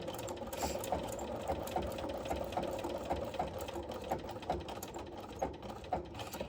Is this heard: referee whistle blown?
no